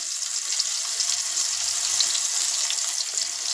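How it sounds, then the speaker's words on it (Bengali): Eggplant pieces rubbed with salt and turmeric fry in hot oil in a kadai, making a soft, even, continuous hiss of sizzling. "তেলটা গরম হয়ে গেছে। এবার দিয়ে দিলাম বেগুনগুলো"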